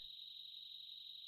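In the Tales of Vesperia video game, a sick-sounding bird gives a frog-like call, heard as a steady, high, insect-like trill that holds evenly and faintly throughout with no talk.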